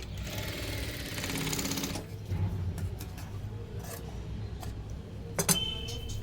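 A sewing machine stitches a 32-size four-tuck blouse, with a fast rapid run of close needle strokes for about two seconds, followed by quieter pauses and a few short clicks and stitch bursts.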